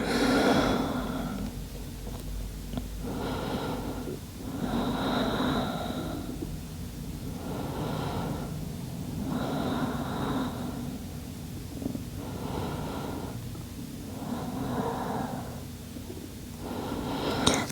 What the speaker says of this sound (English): let's take a couple of deep inhales and exhales here